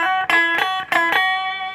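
A few guitar notes run through a Madbean Aquaboy delay pedal, set low and still slightly distorted during calibration. Short picked attacks come close together, then a final note sustains and decays, loud and with no talk.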